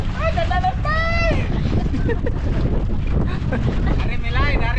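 Strong wind buffets the microphone throughout on an open boat near the water, with loud rumbling gusts and voices calling out over it.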